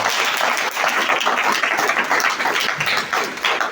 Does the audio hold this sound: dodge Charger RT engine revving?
no